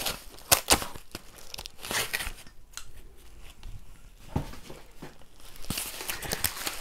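Scissors snip and cut open a package in a series of close crinkling, tearing and rustling sounds, loud at the start and again near the end, with softer handling in between and no talking.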